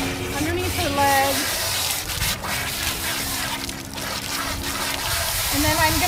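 Water sprays and trickles steadily while a Bernese Mountain Dog is bathed, and the flow changes in strength. A person talks over the running water.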